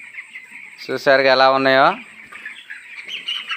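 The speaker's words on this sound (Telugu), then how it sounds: "16వ రోజు సాయంత్రం కోడి పిల్లలు అయితే ఇలా తిరుగుతున్నాయి" Sixteen-day-old chicks give one loud, rising and falling chirping call close by, with softer chirps and clucks around it, while a person talks before and after.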